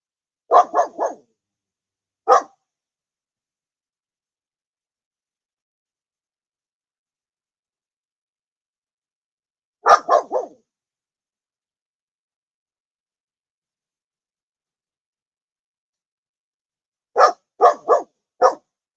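Dogs bark in short separate bursts, two or three quick yaps at a time, with long silent gaps in between; the barks are close and loud.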